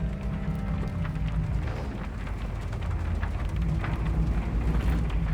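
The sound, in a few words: storm with rain and thunder in Shadow of the Tomb Raider video game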